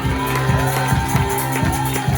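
Church congregation cheering and shouting acclamations, a loud, sustained crowd roar of mixed voices and whoops with rhythmic pulses running underneath.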